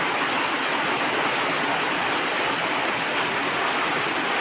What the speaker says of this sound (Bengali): এখন বৃষ্টি আরম্ভ হয়েছে, অনেক বৃষ্টি দেওয়ার।